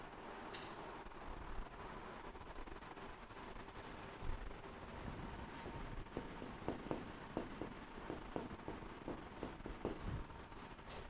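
Notes handwritten with a pen on paper in a classroom lesson: faint, close scratching strokes in short irregular bursts, with no talking.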